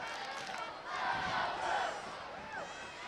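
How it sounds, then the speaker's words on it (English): A football crowd of Garden City Cougar fans at a 2012 high school game against Thurston, heard as a distant, steady roar and cheer swelling midway and easing off, with a voice speaking over it. "There's the diehard Garden City Cougar crowd."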